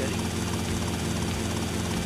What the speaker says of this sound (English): There's another helicopter down there.